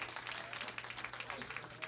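Comedy club audience at Gary Fields Comedy Club clapping in response to a question, a brief, dense burst of applause from a moderate crowd with a low hum underneath.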